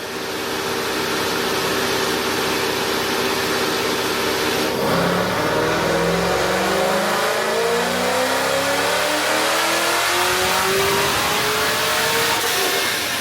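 A supercharged 2011 Corvette Grand Sport V8 on a dyno, revving loudly and continuously as the pitch climbs steadily through a full pull, with no talk.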